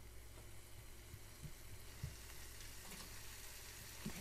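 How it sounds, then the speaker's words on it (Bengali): Shrimp and red spinach fry in a pan, giving a soft, steady sizzle and crackle close by, with a few small stirring knocks and no talking. "চিংড়িটাও কষানো হয়ে গেছে, এখন আমি লাল শাকটাও দিয়ে দিলাম"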